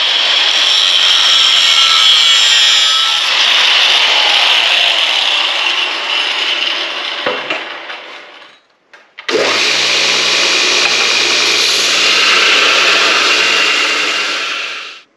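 A homemade bending-pliers tool of steel being cut with a loud, steady rasping saw stroke that runs for about eight seconds, breaks off briefly with a clatter, then resumes just as loud until the piece is cut off.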